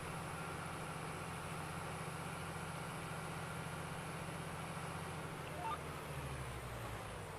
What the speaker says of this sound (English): The tractor's gonna be right behind us